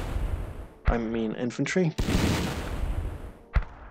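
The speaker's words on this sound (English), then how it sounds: "Now we can use our mortars on soft targets." Mortar rounds firing and landing in the World War II strategy game Battle Academy 2 on the Eastern Front, sharp booms at the start and near the end with a rumbling roar between, while someone talks over them.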